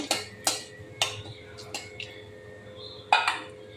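A spatula knocks against a pan while dry red chilli, bay leaf and whole cumin are stirred in hot oil: a handful of sharp, irregular metallic clinks, close and moderately loud, over a quiet kitchen background.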